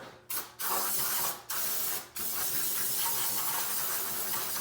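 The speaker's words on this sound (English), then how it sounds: "Some brake cleaner to wash everything nice and to kind of prep it for paint." Brake cleaner sprays from an aerosol can onto a trimmed Jeep wheel well pinch seam, a loud close hiss broken into a few short bursts before one long continuous spray.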